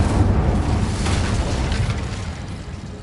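An Incendio fire spell going off in Hogwarts Legacy, a loud, deep burst of roaring flame that rumbles steadily for a few seconds and then slowly eases, with no voices.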